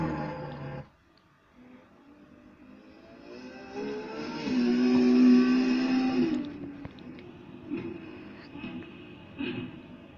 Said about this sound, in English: The random car is a Ferrari